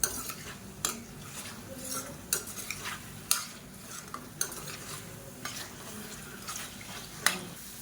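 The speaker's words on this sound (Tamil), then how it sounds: "இப்போ ஹை ஃப்ளேமில் வச்சுட்டு நல்லா பரட்டி விட்டுக்கலாம்." Egg whites sizzle and fry over high flame in a hot pan while a utensil stirs and scrapes, with sharp clinks against the metal at irregular intervals.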